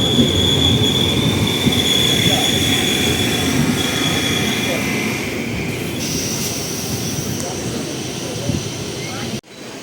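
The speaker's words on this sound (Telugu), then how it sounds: "స్టార్ట్ అయిపోయింది మన ట్రైన్ కన్నమంగళం నుంచి." A train pulls out of Kannamangalam railway station from platform 1, rolling along the rails with a steady rumble and squealing wheels, close by, the noise gradually easing as it moves off.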